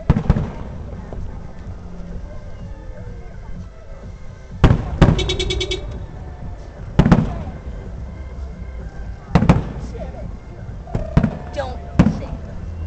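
Fourth of July fireworks bursting outdoors, several sharp booming explosions spaced a few seconds apart with crackling afterward, loud and echoing over background crowd murmur and occasional voices.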